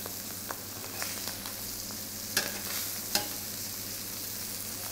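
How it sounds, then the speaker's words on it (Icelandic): Ptarmigan pieces browning in a very hot frying pan give a steady, close sizzle with a few soft clicks and scrapes of stirring, with no talk. "Brúnum þetta til að loka þeim. Þannig að það er bara á sjóðheita pönnu."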